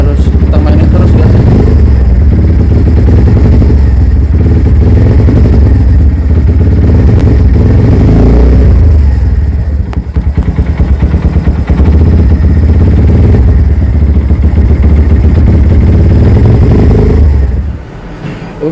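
A Kawasaki W175 motorcycle warms up close by, its single-cylinder engine rumbling loudly and steadily with small throttle blips, then cutting off near the end.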